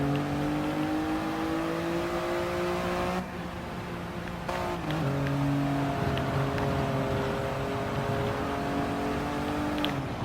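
A Toyota GR Yaris races in Gran Turismo Sport, its engine holding a loud, steady high drone that briefly drops and shifts pitch with a gear change midway, then climbs again.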